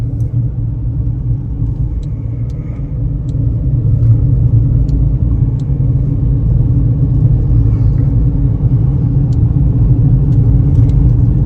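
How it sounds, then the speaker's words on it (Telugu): A Tata Punch on a test drive, heard as a steady, loud low rumble of engine and road noise from inside the car, with a few faint clicks and no talking. "పంచ్ టెస్ట్ డ్రైవ్ చేస్తున్నాను."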